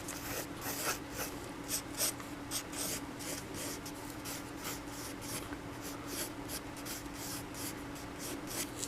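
A pencil scratches quickly across paper during a ten-second anatomy figure sketch, making a close, steady run of rapid strokes for the whole span without speech.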